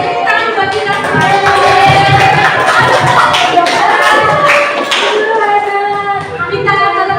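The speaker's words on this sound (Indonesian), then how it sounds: "Semuanya tepuk tangan buat kita semua." A classroom full of people at a junior high school session claps together in a loud, steady burst that runs for several seconds, with voices mixed in.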